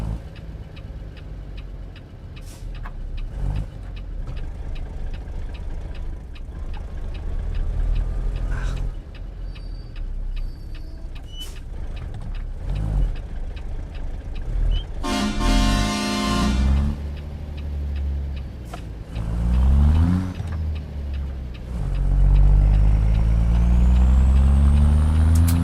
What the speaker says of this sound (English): 99, it's Cummins Big Cam from Z Mods. 855 Big Cam.